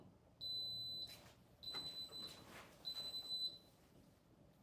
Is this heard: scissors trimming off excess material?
no